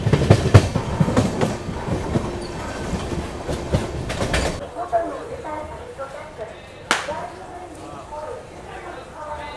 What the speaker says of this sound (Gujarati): માલગાડી સાથે આપણે રેસ અહીંયા ચાલી રહી છે વિરમગામ જંકશન પહેલાં